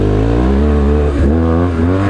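A BMW R1150 motorcycle engine revs hard off-road as the front wheel lifts in a small wheelie, a loud, steady close-up growl with a brief dip in pitch before it climbs again.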